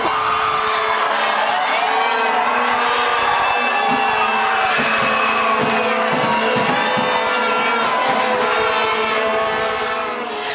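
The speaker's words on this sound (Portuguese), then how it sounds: "A torcida foi a delírio." Football supporters in Limeira erupt in loud, sustained cheering and whooping after a Brazil goal, a dense roaring crowd filling the whole stretch without letup.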